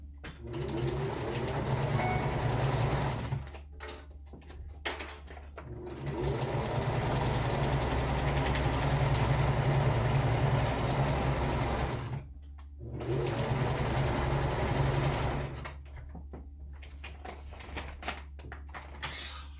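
A sewing machine stitches through dog food bag material for a tote, running in long steady bursts with short pauses between them, loud and close.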